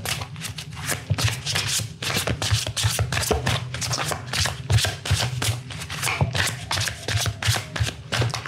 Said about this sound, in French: on va se tirer une petite carte